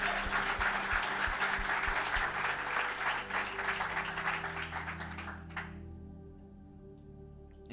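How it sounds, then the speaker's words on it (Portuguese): A church congregation applauds, with loud, dense clapping for about five seconds that then stops abruptly, leaving sustained keyboard tones ringing over the quieting room. "Vamos aplaudir o nosso Senhor Jesus."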